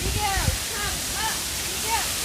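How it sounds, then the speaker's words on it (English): A waterfall roars as a steady broadband wash of falling water at a swimming spot, with voices talking faintly over the continuous rush. "there's a waterfall up here"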